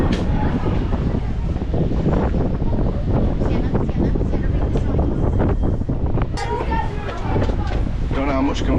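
Wind buffeting a microphone at the top of a tower in Blackpool, loud continuous rumbling gusts throughout, with people talking over it.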